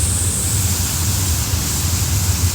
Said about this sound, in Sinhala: කොහොමද ඇල්ල වැටෙන්නේ කියලා?